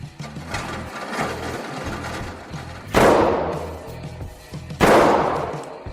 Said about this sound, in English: we're gonna shoot a group, about 3 or 4 shots